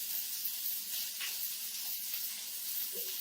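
Cornstarch-coated shrimp for boom boom shrimp fry undisturbed in a pan, giving a continuous soft, even hiss at low level, close and unbroken, with no voices.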